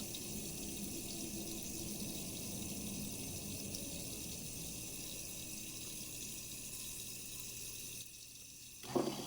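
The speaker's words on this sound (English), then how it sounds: "Now the pump is started." A Seaflo 55 series 5.5 GPM water pump with a 2 gallon accumulator tank runs under a flowing sink faucet, giving a steady low hum and water rush until the flow cuts off near the end with a brief clunk.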